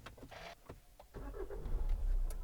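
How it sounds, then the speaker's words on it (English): A 2013 Hyundai ix35 1.7 CRDi diesel cranks briefly and catches, the engine settling into a low, steady idle that swells toward the end, heard close by with no talk. "the engine will start."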